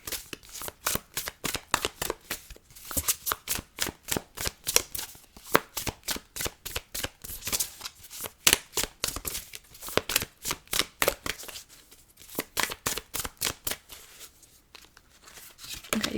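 Tarot cards being shuffled over and over, a dense run of crisp riffling bursts with brief pauses between rounds, close and steady, with no talking.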